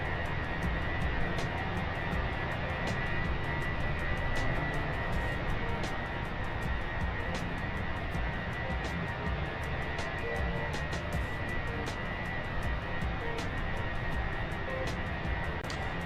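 A steady airliner engine drone from Microsoft Flight Simulator hums continuously at moderate level, with faint regular ticking throughout.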